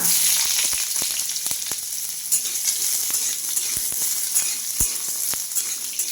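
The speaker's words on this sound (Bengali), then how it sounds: "আমগুলো আছে আমি ভেজে নিচ্ছি" Mango pieces fry in a pan of hot oil with dried chillies and mustard seed, giving a steady loud sizzle broken by occasional sharp pops and stirring taps.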